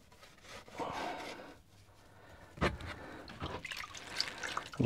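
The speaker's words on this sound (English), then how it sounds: "It's just a case of slowly washing all the excess off the tiles." Water and a sponge or cloth washing excess grout off freshly laid tiles in a camper van, with wet rubbing swipes and splashes coming in uneven bursts at close range.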